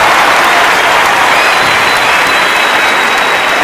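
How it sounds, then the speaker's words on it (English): Students give a chef a loud, sustained round of applause at a hospitality convention event, a dense wash of clapping that carries steadily from start to finish. "Students, can we please have a huge round of applause for Chef Giovanni Vito"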